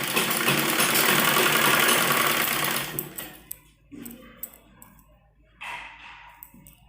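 Close sewing machine runs fast and continuous for about three seconds, stitching the lining of a net baby frock, then halts into sparse clicks, fabric rustles and a brief second burst of motor whir.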